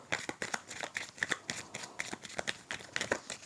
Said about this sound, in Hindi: कार्ड्स को हम बहुत अच्छे से मिक्स कर लेते हैं